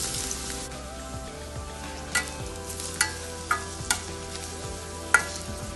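Onions frying in hot oil make a steady sizzle, punctuated by several sharp clinks and scrapes of a spatula at irregular intervals, close up and without speech.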